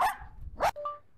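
Two short, sharp barks from a small Malshi dog sound close by, followed by a faint whimpering whine.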